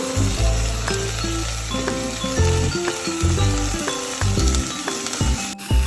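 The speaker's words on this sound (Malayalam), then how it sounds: "ഓയിൽ ചൂടായിട്ട് വരുന്ന സമയത്ത് നമ്മൾ കട്ട് ചെയ്ത് വെച്ചിട്ടുള്ള ഒനിയനും പച്ചമുളകും കൂടി അതിലോട്ടൊന്ന് ഇട്ട് കൊടുക്കാം" Onion and green chilies frying in hot oil in a pan, a steady loud sizzle with stirring clinks and scrapes throughout, no voices.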